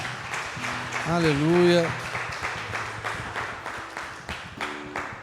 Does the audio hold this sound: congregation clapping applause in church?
yes